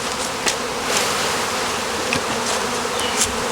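A crowd of honeybees hums steadily around an open hive box, with close, continuous buzzing and a few louder passes near the listener, and no talking.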